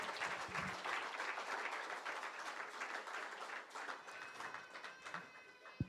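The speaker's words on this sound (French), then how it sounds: "Somebody can clap for the Lord." A church congregation claps for the Lord, giving rapid, steady massed clapping at moderate distance that continues for several seconds, with faint voices beneath.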